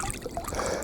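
A river flows steadily nearby with a constant rushing, trickling wash of water and no voices.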